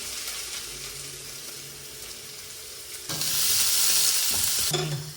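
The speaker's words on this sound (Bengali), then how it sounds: "ওইদিকে তেল গরম হয়ে গেছে। প্রথমে রসুন কুচি দিয়ে দেবো, তারপরেও পেঁয়াজ কুচি।" Chopped garlic and onion sizzle in hot oil, a steady crackling fry that swells louder midway as more goes into the pan, with light stirring scrapes and no talk.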